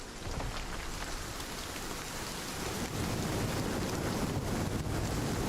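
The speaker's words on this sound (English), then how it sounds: "But fuck yes, rain." Heavy rain pours in the video game Nightingale, a dense continuous patter that swells slightly louder midway, with gusty low rumble underneath and no voices.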